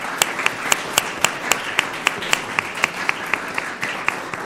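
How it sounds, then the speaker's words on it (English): An audience at a school district governing board meeting claps together in steady applause, with sharp individual claps standing out over the dense wash of the crowd. "a round of applause for them as well"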